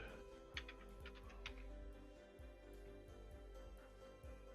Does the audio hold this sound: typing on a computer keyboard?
yes